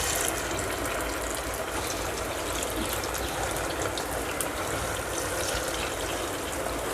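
Chicken 65 pieces frying in hot oil in a kadai, a continuous bright sizzle and crackle that stays loud and even throughout, with no voices.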